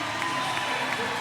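Home Washington Kastles crowd cheering during a World TeamTennis match against the San Diego Aviators, a dense, steady roar of many voices that holds at one level for about a second.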